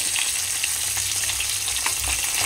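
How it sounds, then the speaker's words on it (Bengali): Fish bones fry in hot oil in a pan, producing a close, continuous crackling sizzle with scattered sharper pops and no voices. "ভেজে ভেজে তুলে নিচ্ছি, নইলে তো নষ্ট হয়ে যাবে কাঁটা"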